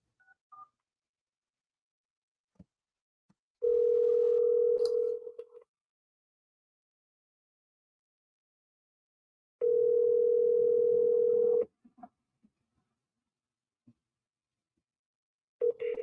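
A telephone line tone sounds in two long, steady hums of about two seconds each, separated by silence, with faint clicks and brief dialing beeps between them and no talk over the tones.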